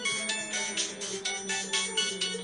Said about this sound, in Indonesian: Telepon masuk.